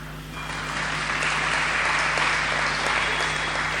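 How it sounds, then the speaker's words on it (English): Audience clapping steadily at a devotional gathering honoring Sathya Sai Baba, a dense, even wash of many hands that builds in the first half second and then holds loud and sustained, with a faint low hum underneath. "Clap your hands."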